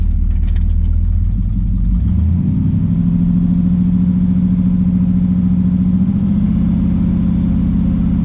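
A warmed-up car engine with a failing transmission revs up and holds near 4,000 RPM as a steady, loud drone after a brief rise, with no talking.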